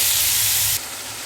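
Tomatoes and green chilies hitting a hot pan for tomato thokku, a loud close burst of hissing sizzle that drops to a softer, steady hiss after under a second.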